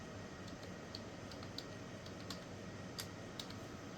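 Soft, scattered keystrokes on a computer keyboard while commands are entered in an Ubuntu terminal, faint and irregular over a steady background hiss, with no talking.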